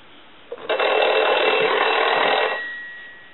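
An old French PTT telephone bell rings loudly in one continuous burst of about two seconds, then fades away.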